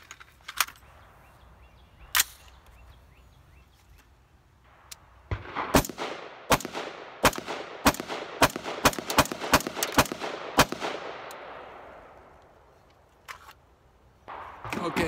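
A Delta Level Defense rifle fires cheap ammo, first as a few spaced sharp shots, then as a rapid string of cracks with echo, followed by a couple of final shots; loud, outdoors.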